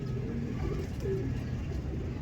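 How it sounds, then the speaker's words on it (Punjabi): A desi pigeon from Faisalabad coos softly and continuously in low, murmuring tones, with steady background noise and no talk. "ਇਹ ਅਸਲ ਕਬੂਤਰ ਹੀ ਲਓ ਜੀ"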